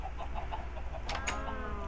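A chicken in the Minecraft video game clucks in a few short, soft bursts over steady game background sound, with no talking.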